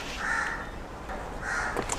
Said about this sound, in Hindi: मतलब अगर पूरे दिन में सब सो रहे हैं तो कौवे को शोर मचाना है.